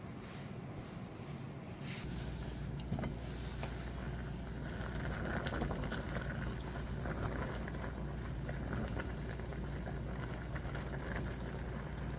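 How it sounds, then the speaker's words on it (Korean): Greens boil in a covered pot, giving a steady, close, low rumbling bubble with soft hissing that runs unbroken throughout after a brief quieter start. "뚜껑 덮고 삶아 볼게요."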